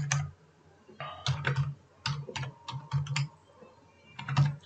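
Computer keyboard typing while a project name is entered in a C# programming setup, quick irregular bursts of close, crisp key clicks with short pauses between words, no talking.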